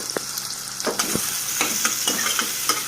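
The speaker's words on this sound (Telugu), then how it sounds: "తర్వాత ఆనియన్స్ వేసుకొని ఇవి ఎర్రగా వచ్చేంత వరకు బాగా వేయించుకోవాలి" Onions frying in hot oil for a curry, a loud close sizzle with repeated spatula scrapes and taps against the pan, no talking.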